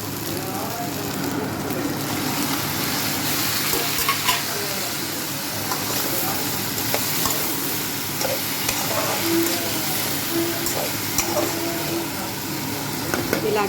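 Tomatoes and ivy gourd sizzle steadily in a hot pan with occasional scrapes and clinks of stirring, a continuous close frying hiss throughout.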